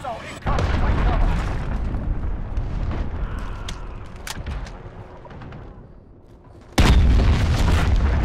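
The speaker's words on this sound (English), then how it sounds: "Cruise missile incoming. Take cover." A cruise missile explosion in Modern Warfare Ground War, heard as a heavy, booming roar that swells and rumbles over several seconds, then a second loud blast cuts in near the end amid battlefield noise.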